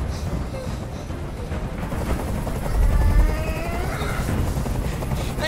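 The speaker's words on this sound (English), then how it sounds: "Tell that helicopter to get out of here." A helicopter hovers overhead in the video game Detroit: Become Human, a steady rotor rumble with a rising swell in the middle, mixed with other game sounds and no speech.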